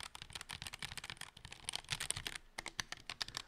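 Someone types on a Redragon K631 Pro SE wireless gaming keyboard, producing a quick, soft stream of clicky keystrokes at close range, with a brief pause before the taps resume.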